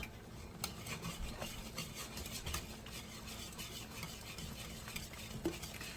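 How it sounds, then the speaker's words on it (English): Southern-style collard greens are stirred in a pot with a utensil, giving close, quiet scraping and soft clinks at an uneven rhythm, with no talking. "And then we're gonna stir."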